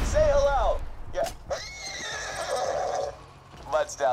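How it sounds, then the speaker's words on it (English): A diamond horse in the video game Borderlands 2 gives a loud, close whinny with falling pitch, then another shorter neigh near the end, with other game sounds in between. "It's a living horse that actually happens to be made of"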